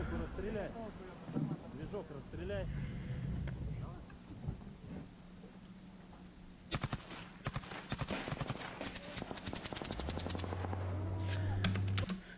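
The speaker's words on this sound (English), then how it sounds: "these guys start firing at this, whatever they were throwing the grenade at, right?" Gunfire in combat footage from Ukraine, with rapid sharp cracks from several weapons starting partway through and repeating in uneven bursts, fairly far off, while someone talks over the shooting.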